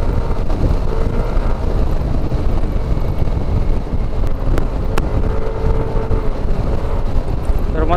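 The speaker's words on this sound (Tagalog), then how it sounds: "Lakas na ng hampas ng hangin pag na 90 na." Strong wind buffets a motorcycle riding at about 90, a continuous loud rushing roar over engine drone, with no breaks for the full stretch.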